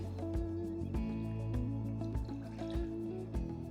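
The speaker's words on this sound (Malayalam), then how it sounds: "ഇതിലേക്ക് ഒരു 3/4 കപ്പ് വെള്ളം ചേർക്കാം." Water is poured into a pot of cut yam pieces for a Kerala kurukku kalan. Close splashing, trickling and dripping come in a series of short, uneven bursts over a few seconds.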